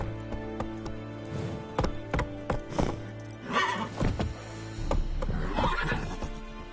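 Roach, the horse in The Witcher III, with close hoof clip-clops, snorts and a whinny in an uneven run of sounds.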